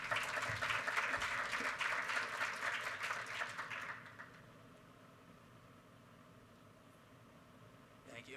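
An audience at a panel on voting in America applauds loudly for about four seconds in a dense wash of clapping, which then drops off sharply to a quiet room hum.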